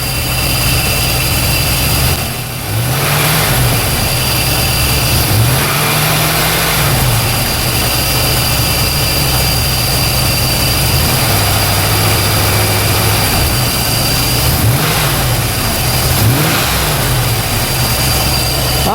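A Pontiac Firebird's engine idles with a steady drone and rises in several short revs, a couple close together near the start and more later on, each sweeping up and settling back to idle.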